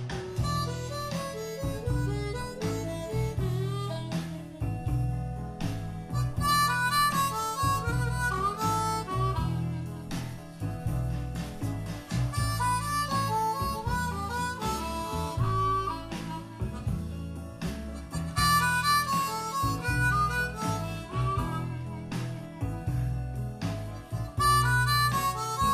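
Harmonica playing a more complicated slow blues riff in E, with sustained bending notes over a steady backing groove, loud and continuous throughout.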